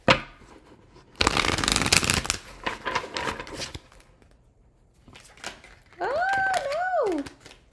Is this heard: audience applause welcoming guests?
no